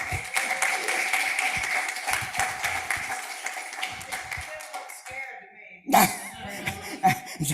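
A church congregation at a Sunday service gives Lakeisha a round of applause, a dense burst of clapping for about five seconds that gives way to chuckles and voices.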